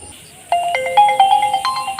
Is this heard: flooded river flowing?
no